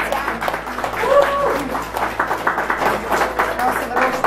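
A hall audience breaks into applause, a dense clatter of hands that swells and stays loud, with voices audible alongside.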